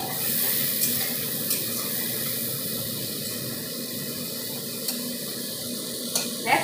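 Water pours into a pot of thin rohu fish curry with potatoes, a steady rushing, bubbling stream that runs evenly throughout with a few small knocks.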